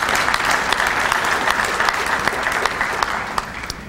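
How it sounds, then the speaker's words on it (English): Audience at a Middlesex Chamber breakfast applauds in a steady, even wash of clapping that holds at moderate loudness for the whole stretch, with a few sharper individual claps standing out. "Let's have a round of applause for all of them."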